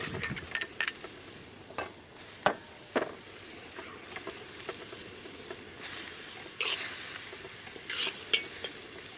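Spinach puree blended with mint and coriander is stirred into a frying lamb dish, giving close scraping stirs and sharp clinks over a steady background sizzle, with irregular bursts of activity throughout.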